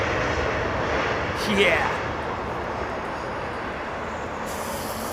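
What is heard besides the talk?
landing airliner using thrust reversers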